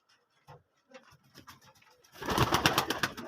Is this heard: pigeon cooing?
yes